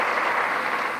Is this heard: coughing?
no